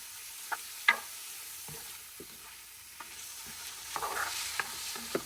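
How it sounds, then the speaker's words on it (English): Shrimp seasoned with salt and pepper sautéing in oil in a pan, a soft low sizzle broken by scattered clicks and scrapes of stirring, close with no talk. "I'm going to add more of the oil to the pan to saute the shrimp."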